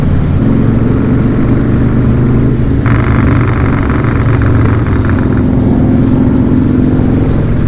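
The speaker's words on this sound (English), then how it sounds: "It has a 2-into-1 with the baffle in it, but it has such a nice deep sound." A Harley-Davidson Dyna Low Rider fitted with a baffled 2-into-1 exhaust drones steadily and up close while riding, a continuous deep engine rumble with no one talking.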